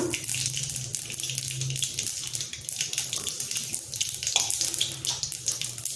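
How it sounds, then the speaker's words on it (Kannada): Green gram dal being rinsed under a running kitchen tap, a steady close splashing rush of water into a sink that carries on throughout with no talking. "ಇವಾಗ ಒಂದು ಅರ್ಧ ಬಟ್ಲಷ್ಟು ಹೆಸರುಗಳನ್ನು ಈ ಬಟ್ಟೆಗೆ ಹಾಕ್ಕೊಂಡು ತೊಳ್ಕೊಳ್ಳೋಣ"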